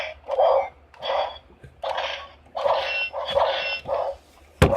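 Electronic sound effects from a Power Rangers Beast X Morpher toy come as a run of short, loud bursts with brief gaps between them, ending in a sharp click.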